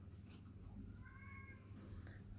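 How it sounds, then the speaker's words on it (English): A single faint cat meow rises briefly in a quiet indoor room over a low background hum. "The cat's meowing as well now."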